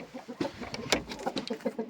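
Repeated short clucking calls from a rooster, fairly close, in an irregular stream with a few sharper bursts over a light background hiss.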